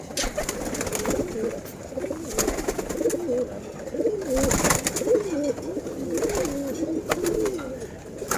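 Pigeons coo continuously in a bird-selling setting, several overlapping throaty calls close by with rustling around them.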